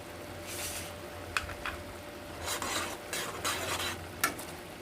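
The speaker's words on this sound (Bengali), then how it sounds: "আর সব শেষে দিয়ে দেব বন্ধুরা যে মশলাটা আমি ভেজে রেখেছিলাম" Fried spices, a dried red chilli and panch phoron, are stirred into wedding-style mango chutney. A spoon scrapes the pan in several distinct strokes over a soft, steady sizzle, close and moderately loud, with no talking.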